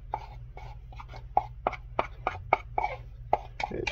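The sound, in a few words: mixing dental stone with water for a cast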